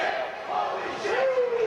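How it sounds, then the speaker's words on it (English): Wrestling crowd at a tag team match roaring and screaming wildly after a shooting star press from the top rope, a dense sustained arena cheer with commentary heard over it. "the crowd is going absolutely insane"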